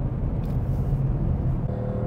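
A 2024 Ford Mustang Dark Horse V8 engine and exhaust give a loud, deep, steady rumble that holds throughout, heard close with no speech.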